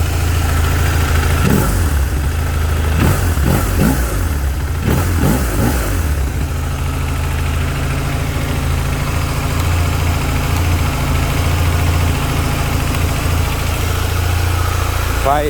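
A car engine idles steadily throughout, with a few quick revs near the start, and voices talk faintly at times over the constant low rumble.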